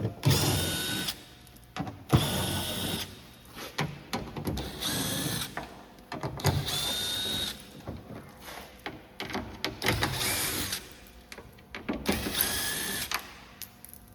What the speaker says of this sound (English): So we've got 8 screws, like I say, T25 Torx. Just take all these out, set them all to the side.